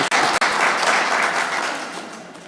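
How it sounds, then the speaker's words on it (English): Audience applause at a city council meeting for a young lady, a burst of many hands clapping up close that gradually thins and fades toward the end. "Come on, a little applause for the young lady"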